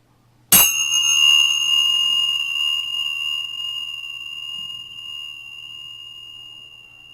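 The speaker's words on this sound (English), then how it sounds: "I bring these Tibetan Tingsha bells with me" A single bright metallic chime is struck once, then rings on with a long, slowly fading shimmer of sustained pure tones.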